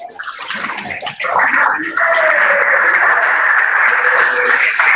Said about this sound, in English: I would request all the colleges to have a round of applause for Ms. Farheen.